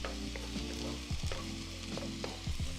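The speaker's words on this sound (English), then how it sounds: "I'll start cracking my eggs right here in the inside. And now what we'll do is we'll just scramble right here." Eggs scrambling and frying in a pan for shrimp fried rice, a close, steady sizzle with scraping and stirring strokes from a utensil against the pan.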